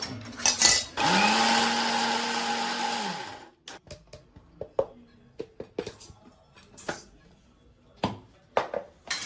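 A mixer grinder powders fried ingredients in a mixing jar, running for about two and a half seconds in a loud steady whir, followed by scattered clicks and knocks of the jar and lid.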